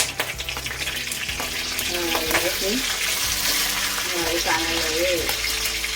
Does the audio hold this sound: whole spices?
yes